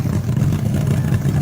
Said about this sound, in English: Listen to that Ramcharger's motor. Just crisp and clean.